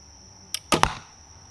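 A Black Widow KBX 54-inch bow shooting an arrow: a faint click followed by a quick soft thump and a short snap of release, quiet and close, over a low background hiss.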